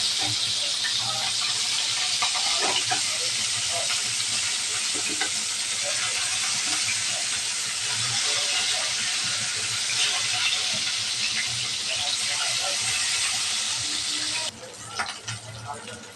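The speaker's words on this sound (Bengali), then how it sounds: "সরিষার তেল তেল গরম হয়ে গেছে দিয়ে দেব মাছ" Hilsa fish fries in hot mustard oil with a steady, dense sizzle that holds evenly throughout and eases slightly near the end.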